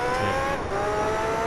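Formula GT race car engine at Monaco in Gran Turismo 3, a loud steady high-pitched whine holding a near-constant tone throughout, with a faint hint of tyre noise and no talking.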